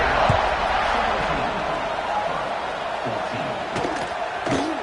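A packed stadium crowd roars at kickoff in the college football video game NCAA 26, a dense sustained wall of cheering with scattered shouts and thuds, at steady loudness throughout.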